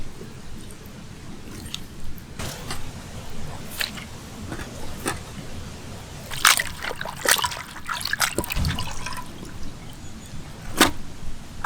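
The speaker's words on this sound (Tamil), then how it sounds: "ரத்தம் போகாமல் அழகாக கழுவி எடுத்துக்க வேண்டியான்." Raw fighting-breed chicken washed by hand in water for a village-style soup, with sloshing, trickling and wet rubbing plus scattered sharp clinks, close and uneven throughout.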